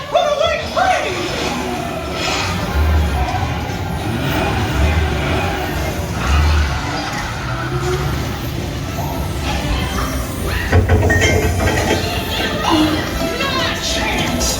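A dark-ride train car at Disney's Mickey & Minnie's Runaway Railway in Hollywood Studios rumbles along under loud, continuous ride soundtrack, excited voices and children's chatter, with low thumps and swells throughout.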